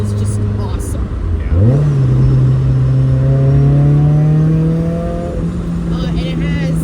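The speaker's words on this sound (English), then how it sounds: "It's just like the perfect sound on a supercharged Miata." Supercharged 1.8-litre Mazda Miata with a Rotrex C30-94 supercharger and an eBay exhaust, heard from inside while driving: a loud engine note rises sharply as it accelerates through a gear, then holds a steady drone before easing off.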